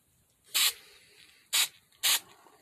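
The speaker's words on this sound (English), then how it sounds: "shoot spray on the other things I've done" Spray paint hisses onto a Rambo model in three short, close bursts: one, then two more in quick succession, with near quiet between them.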